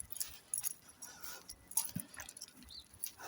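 Dogs whimpering and yipping on a morning walk, faint and intermittent, with soft jingling and a few brief sharper yelps over quiet outdoor background.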